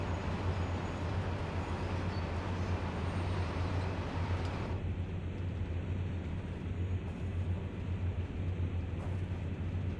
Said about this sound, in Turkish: Trenin durmasını bekleyeceğiz.